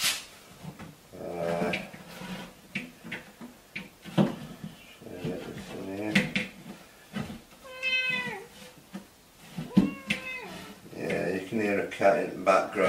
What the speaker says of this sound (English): cat in the background, obviously.